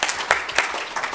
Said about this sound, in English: Sorry, I interrupted people's applause, so let's do that.